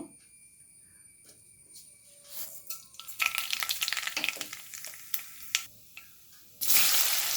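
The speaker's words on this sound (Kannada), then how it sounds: "ಈಗ ಮೊದಲಿಗೆ ನಾನು ಸಾಸಿವೆ ಹಾಕ್ಕೊಡ್ತೇನೆ" Mustard seeds crackle and sizzle in hot oil in a pan, with light scattered pops at first that grow into louder bursts of close spluttering and a strong sizzle at the end.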